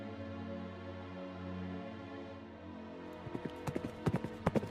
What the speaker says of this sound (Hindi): तभी जफरुल मुनाफिक घोड़े पर सवार होकर वहां आ पहुंचा